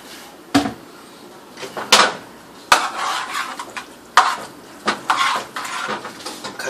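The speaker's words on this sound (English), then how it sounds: "in goes the meat. The chopped meat and the sausage" Chopped meat and sausage drop into a pot while making baked ziti, with several sharp clattering thuds and scrapes at irregular intervals and a light sizzle between, close and fairly loud.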